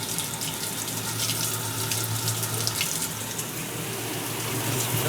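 A washing machine filling with water for its rinse cycle after spinning, a steady rushing flow with a low hum underneath, continuous and fairly close throughout.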